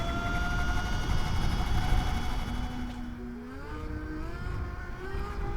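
A Sotion FW22 electric bike accelerating in sport mode, its motor whine climbing in steady rising tones over loud wind and road rumble, close and continuous throughout.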